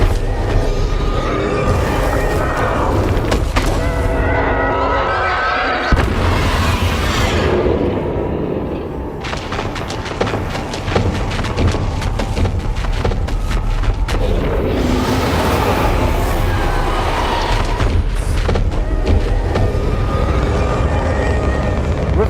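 Fiery spell blasts and rumbling booms from the Confringo spell in the Hogwarts Legacy video game, with loud, dense bursts over constant battle noise and a few shouted voices.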